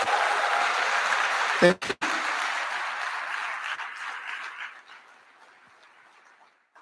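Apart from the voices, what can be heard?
audience applause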